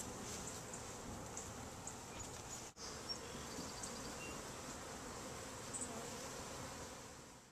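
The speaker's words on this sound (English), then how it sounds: "Bees!" A swarm of honeybees buzzes steadily and fairly close outdoors, a continuous droning hum with no talk that holds for the whole stretch, apart from one brief dip.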